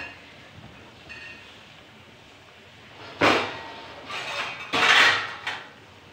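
A lid is set onto a pan of cooking baigan sabzi, with two distinct metallic clatters close by, one after the other, over quiet kitchen background.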